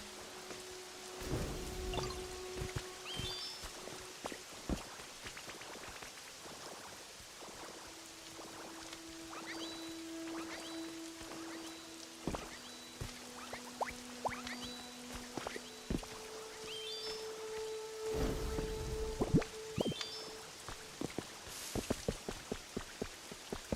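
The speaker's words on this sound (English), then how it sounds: "The water, man, stop raining for crying out loud," Rain falling in the video game Pokémon Pokopia, a soft steady patter with scattered droplet ticks under chiming game music and sound effects, faint and continuous throughout.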